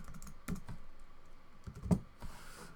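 A name is typed on a computer keyboard into a Python shell. A short run of quiet, close keystroke clicks comes at an uneven pace, with one firmer tap near the end.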